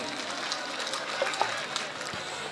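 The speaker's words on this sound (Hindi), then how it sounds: "एक बार ताली बजा दो भाई छोरा के लिए" Scattered crowd clapping at an outdoor stage show for a dancing boy, faint and distant, a thin steady patter with a few sharper claps standing out.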